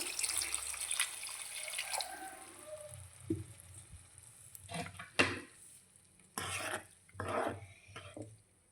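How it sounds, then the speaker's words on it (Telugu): Water splashes and pours into a sizzling pan of taro gravy curry in a few bursts, with stirring and clinking of cookware in between. "చిక్కటి గ్రేవీ కోసం వాటర్ అయితే యాడ్ చేసుకుందాం"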